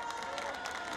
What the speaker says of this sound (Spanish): Qué lindo se escuchan sus aplausos